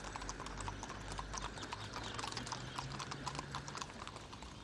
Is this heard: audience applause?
no